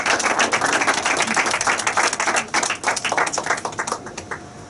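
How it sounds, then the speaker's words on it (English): A loud round of applause breaks out at a reception in the British Parliament, honouring ITSEB and Dr. Ali Demirbag: a dense, steady patter of many hands clapping close by for several seconds with no speech over it. "So we have a loud round of applause to ITSEB and to Dr."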